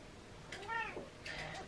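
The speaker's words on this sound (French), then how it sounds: "j'ai ma porte qui s'ouvre par un chat" A cat meows twice in quick succession, close and moderately loud, as it pushes a door open indoors, with faint room noise around it.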